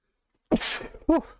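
A single sharp sneeze bursts out of silence, followed by a brief vocal sound right after.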